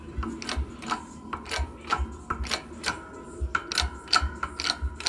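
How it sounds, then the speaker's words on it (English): A press works wheel studs out of a Firebird 1LE brake rotor, giving a series of sharp metallic clicks and knocks at an irregular pace over a low mechanical rumble, close by. "show you how easy it is to take these studs out with the press"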